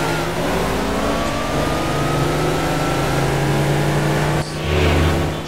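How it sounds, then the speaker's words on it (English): A car in the Midnight Club LA racing game holds a loud, sustained engine roar while its tires burn out, the tone rising slightly before a brief dip and a renewed surge near the end. "Look at those tires burning."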